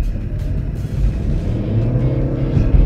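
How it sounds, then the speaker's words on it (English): A 2014 Chevy Volt's petrol engine starts up during hard acceleration, a low rumbling drone that builds steadily inside the cabin, with no talking. "can hear the engine kick on because when it's needed, it'll be able to add a little bit of boost"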